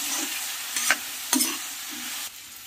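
Potato and bean curry with spices, including coriander powder, stirred in a pan, bringing intermittent scraping strokes and spoon knocks over a quiet, steady sizzle, close and fairly soft, with no talking.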